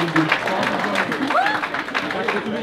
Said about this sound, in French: Vous pouvez vous applaudir, hein